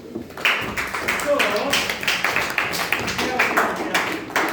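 Students in a physical science classroom clap in a steady, loud, close round of sharp, rhythmic claps lasting several seconds, with a voice briefly heard under them.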